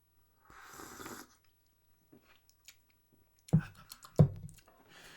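Mountain Dew is sipped from a Master Chief cup: a couple of close, wet slurping sips after a short quiet stretch, with an earlier brief rustle.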